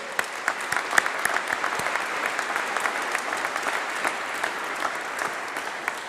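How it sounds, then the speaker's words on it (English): An audience at a winter graduation congregation applauds after a talk, a sustained wash of many hands clapping at moderate distance with a few sharper individual claps standing out, steady for several seconds. "So I think a huge round of applause to Holly for your talk."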